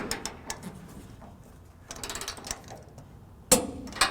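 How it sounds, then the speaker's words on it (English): A ratchet wrench clicks in short bursts while torquing trailer hitch bolts on a 1996 Chevrolet truck, with sharp metallic knocks, pauses between bursts and a loud clank near the end, no talk. "let's go ahead and torque it down"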